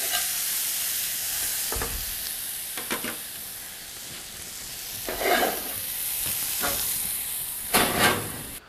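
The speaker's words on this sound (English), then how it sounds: "Now I'll lay in the flank steak and cook it in the oven for about 5 minutes." Flank steak sizzles in a hot cast iron grill pan: a steady broadband hiss with a few brief, louder spitting bursts near the end. No voices.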